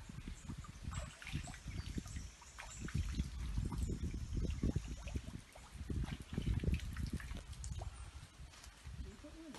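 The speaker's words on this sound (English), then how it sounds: "Spring water." Spring water trickles and splashes in uneven bursts at close range, a soft, irregular burble rising and falling, with faint voices now and then.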